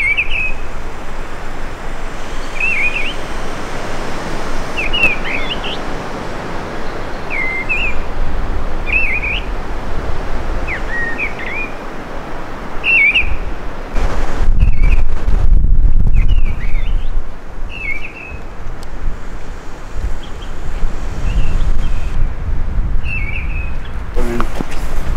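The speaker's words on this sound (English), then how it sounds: "There's a bird up here somewhere. I can't see it," A bird repeats a short bright song phrase again and again on a windy Dartmoor moor near Click Tor, its calls clear above steady rushing wind that gusts harder partway through.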